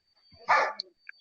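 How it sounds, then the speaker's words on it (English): A dog gives one short, sharp bark up close, with a couple of faint high yips after it, over near silence. "as soon as the dogs start barking, obviously, but they're not going to calm down."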